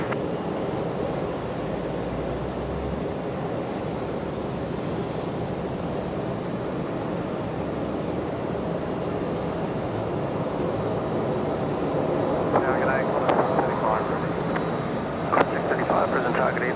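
Aircraft taxiing at Brisbane Airport in the evening, a steady broad engine roar held at moderate distance throughout, rising slightly near the end with faint tonal whine, with a voice talking over it.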